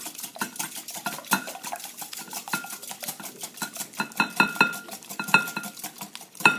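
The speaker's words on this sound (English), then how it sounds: "I'm going to use a whisk to beat the eggs together" Eggs beaten with a whisk in a bowl for French toast, a rapid steady clatter of wire tapping and scraping against the bowl, close and continuous.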